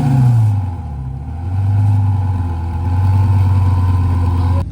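A car at a large Caffeine & Carburetors gathering of JDM and other enthusiast cars fires up and revs, its engine note rising and falling steadily and loud in the foreground throughout.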